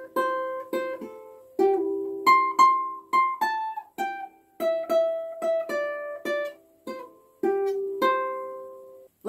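Ukulele playing a fingerpicked opening riff for a sea shanty-style tune, a lively run of bright plucked notes in a steady bouncing rhythm, close and clear with no voice.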